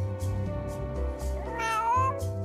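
A cartoon cat gives a long, drawn-out meow that rises and wavers, heard close over a low steady musical background.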